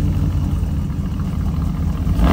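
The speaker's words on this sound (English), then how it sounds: "Give it a rev" A Porsche Cayenne with side exit exhausts revs up, a deep low rumble that holds steady, then swells louder at the end, close and without talk.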